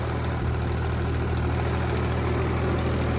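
Ford 3600 tractor engine runs steadily, a loud, close, low diesel rumble with a constant throb and no voices.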